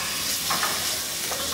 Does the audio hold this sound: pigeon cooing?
no